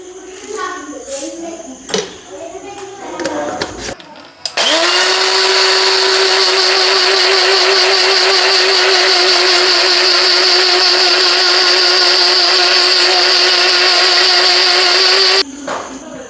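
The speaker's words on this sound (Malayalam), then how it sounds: "അപ്പോൾ ഇതേ നമ്മളിനി മിക്സിയിലത് അടിച്ചെടുക്കാൻ പോവാണ്" A mixer grinder blending jamun fruit with sugar whirs loudly and steadily for about eleven seconds, starting abruptly after some brief talk and stopping just as suddenly.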